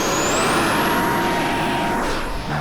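A small RC F-35C model jet with a 50 mm electric ducted fan, a loud steady whine that rises in pitch early on and then holds, heard close with no talk.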